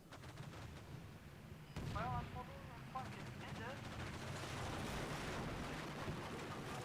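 Infantry rifle and machine-gun fire in the Combat Mission war game, a continuous distant crackle of shots under a low rumble, with someone talking over it.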